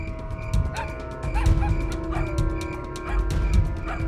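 Military tracking dogs bark and yip repeatedly in quick, irregular bursts, close and loud, over a steady background hum.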